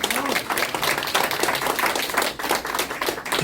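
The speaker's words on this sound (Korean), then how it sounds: "이분들에게 큰 박수 한번 해주시기 바랍니다." Audience at a Korean press conference of Vietnam War veterans claps steadily, a dense mid-loud patter that holds through with a voice briefly heard at the start.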